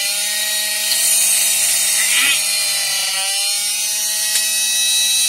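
A 12-volt cordless drill's 18-volt chuck head spins with a steady, high-pitched motor whine, loud and close, holding its pitch throughout.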